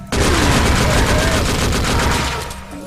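Pistol fire in the video game Gore, a loud rapid burst of repeated shots rattling almost continuously and close, with a voice faintly underneath before the volley tails off near the end.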